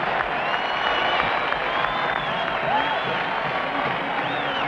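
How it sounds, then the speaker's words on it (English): A sellout crowd at a 1980 Lakers NBA game in a basketball arena cheers with a constant roar of mixed voices and some whistles, sustained at a steady loudness with no gaps. "The sellout crowd urges the Lakers to get back in the hunt"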